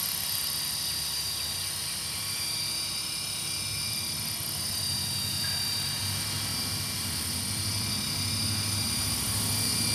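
Helicopter hovering in place near the ground, a steady, loud, continuous rotor and turbine roar with a high whine running unbroken throughout, no voices.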